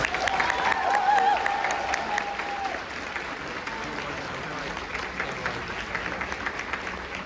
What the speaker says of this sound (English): Please give them a round of applause.